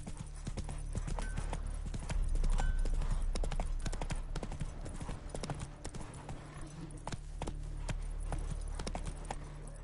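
A horse gallops at a steady, rapid clip-clop in The Witcher 3 on PS5, the hoofbeats loud and continuous with a brief neigh-like sound.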